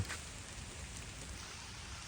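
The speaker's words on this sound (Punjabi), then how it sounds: "ਮੀਂਹ ਹੁਣ ਗਿਆ ਵੱਧ" Steady rain hiss, an even broadband wash with no break, moderately loud and continuous throughout.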